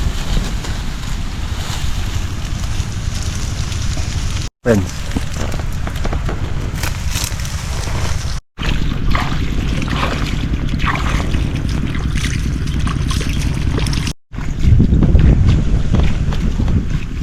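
Strong wind roars and buffets the microphone continuously, with water and boat noise underneath and a brief spoken word; a few short dropouts interrupt it.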